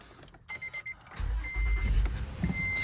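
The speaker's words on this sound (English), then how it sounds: "Let's go ahead and start the car." A 2015 Honda Odyssey minivan starts: a few brief chime tones and the starter's whir, then the engine catches into a steady idle rumble close by, with more chimes sounding over it.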